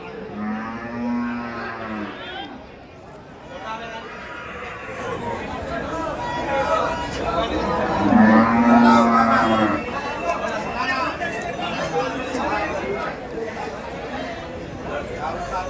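Cows mooing repeatedly at a cattle market in Dhule over a busy crowd of voices chattering, several low drawn-out moos rising above the murmur, some close and loud.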